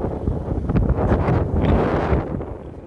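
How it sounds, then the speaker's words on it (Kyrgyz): Wind buffets the microphone at the Colorado–Wyoming state line, a loud continuous low rumble that swells and eases throughout, with no talking. "Шамал болот абы."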